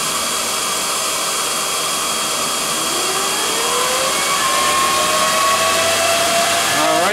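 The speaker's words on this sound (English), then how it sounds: "Miner fans are up and running." Cooling fans on a Bitmain Antminer S9 bitcoin miner in a cold garage roar steadily and loudly up close, a broad whooshing hiss with a whine that rises in pitch as the fans spin up.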